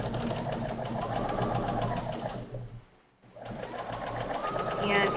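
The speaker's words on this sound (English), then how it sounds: "So we're going to line that up and get that sewn." Sewing machine stitching a plush paw onto a belly section of a stuffed toy, running steadily with a brief pause midway, with a voice heard over it.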